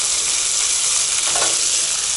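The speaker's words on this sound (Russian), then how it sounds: "Итак, сначала обжариваем лук" Onions fry in a heated pan with a steady, close, loud sizzle and crackle throughout and no talking.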